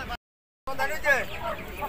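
Fighter roosters cluck at a busy bird market, brief close clucking calls heard after a short silent gap, with people talking nearby.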